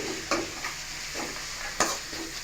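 Prawns and tender tamarind leaves cook in a pan, giving a low steady sizzle with a few soft scraping stirs spaced through the short stretch.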